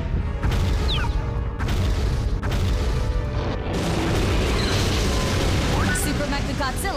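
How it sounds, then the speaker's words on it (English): Generator exploding in the Godzilla PS4 video game, a loud sustained rumbling blast with crashing debris and game sound effects layered over dense monster battle noise. "Generator has been destroyed."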